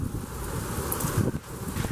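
Gusty storm wind roars steadily over the microphone with rustling from nearby trees, a constant loud buffeting throughout.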